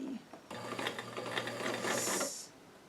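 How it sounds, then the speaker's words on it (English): A sewing machine runs a short burst of stitching on doll-sized jeans, a quick mechanical whir for about two seconds, faint and close, with no talking. "I'm going to sew this at roughly 1/4 inch"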